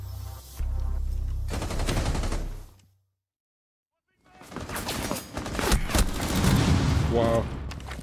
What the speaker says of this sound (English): He just wanted to shoot the barricade open.